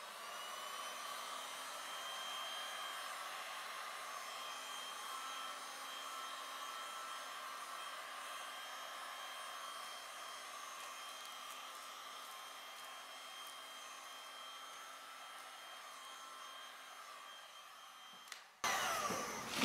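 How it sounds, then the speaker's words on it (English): A hair dryer blows steadily to dry fluid art paint on deli paper, a constant, even whirring hiss that runs for about eighteen seconds before cutting off with a brief clunk. "Now, what you want to do is dry them in between."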